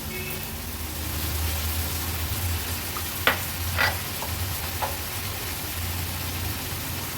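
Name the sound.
snake gourd and tomato added to pan with dried shrimp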